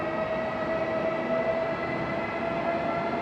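The Intercity Moniuszko, hauled by a Czech railways locomotive, departs Warszawa Zachodnia station with a steady rolling rumble and faint tonal whine, loud and continuous with no voices over it.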